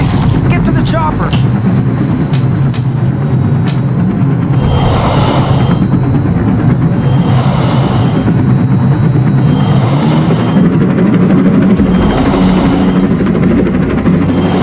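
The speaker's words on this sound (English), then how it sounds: "Get to the chopper!" Helicopter rotor and engine drone in the video game Trapped Dead: Lockdown, a loud, steady low rumble throughout, mixed with game effects and faint voices.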